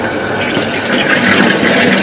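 A home monoblock water pump pulls water and pushes it through a pipe, giving a steady, loud gushing rush of flowing water with a slight build in the second half.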